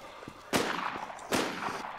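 Two sharp gunshots ring out in the zombie survival game Infestation World, close and loud, with faint scattered background noise between them.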